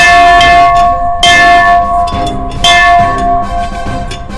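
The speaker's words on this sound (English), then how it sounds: "Think it's time to ring the bell?" A large bell, rung by rope at a historic fort on Dauphin Island, clangs loudly and close in two heavy strikes, each leaving a long, ringing metallic hum that slowly fades.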